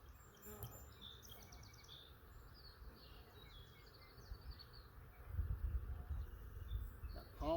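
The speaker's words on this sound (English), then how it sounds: "A lot of bees" Honey bees buzzing around an opened beehive during an inspection, a steady insect drone close by with a slight swell in loudness toward the end.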